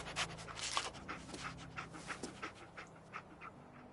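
Close, quick panting from a dog, breathy rhythmic huffs repeating steadily over a low background hum, with a faint whimpery edge and no talk.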